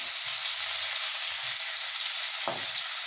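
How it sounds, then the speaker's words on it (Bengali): Loitta fish (Bombay duck) fries in hot oil with a steady, loud sizzling hiss throughout. A soft stirring or turning clatter comes near the end, and no one speaks. "বাকি লোটে মাছগুলো একই রকমভাবে কিন্তু আমি ভেজে তুলে নেব"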